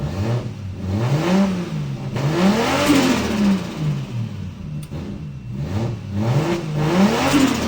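A car engine revs repeatedly, pitch climbing and dropping in smooth waves, loud and close with no talking over it.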